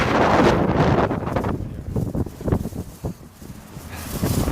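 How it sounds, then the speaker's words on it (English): Strong wind gusts roar across the microphone in loud surges, easing briefly between blasts before building again. "these gusts get so strong that they move you around"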